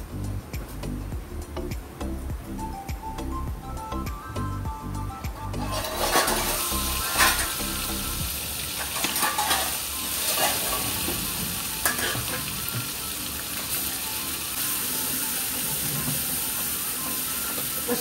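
Food frying in hot oil in a home kitchen, a steady close sizzle and hiss with stirring clatter early on, then a louder, denser crackle continuing to the end.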